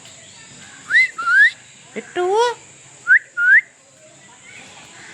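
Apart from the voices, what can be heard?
parrot calling at Sakkarbaug zoo, Junagadh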